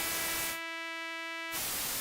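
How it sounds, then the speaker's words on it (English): A bright, steady hiss of a white noise test signal, run through a Line 6 Helix noise gate, briefly dips into a thin set of tones, then returns to full broadband hiss. "this is the original signals, white noise"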